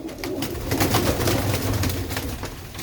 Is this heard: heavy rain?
no